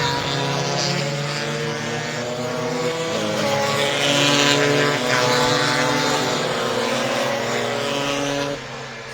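Stock scooters racing at the Lydden Hill circuit give a loud, steady, high engine drone that swells and fades slightly as the pack passes, continuous with no pauses until a small drop near the end.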